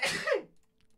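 A single short sneeze burst, close and fairly quiet, fading quickly into near silence.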